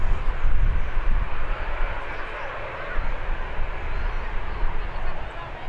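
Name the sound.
Aer Lingus Emerald Airlines airliner departing Birmingham Airport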